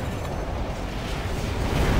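Weapon fire and explosions in the video game Armored Core: For Answer rumble low and heavy as a dense, continuous barrage, swelling slightly toward the end.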